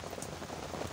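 Heavy rain pours down steadily, a dense, even hiss of drops drumming on a surface, close and constant with no voices.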